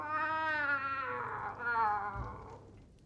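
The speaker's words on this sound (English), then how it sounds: "like a call of a pained cat" A wailing, pained cat-like cry rises and falls, a long drawn-out tonal howl with wavering pitch that fades toward the end, heard alone without voices.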